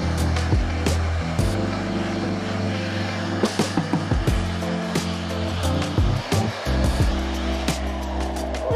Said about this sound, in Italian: quando abbiamo finito col phon